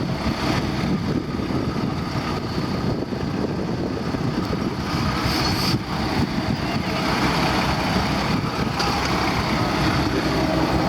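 A vehicle drives over rough, flooded roads in the Bolivian Amazon, giving a loud, continuous engine and road rumble with jolts and splashy noise, no voices over it.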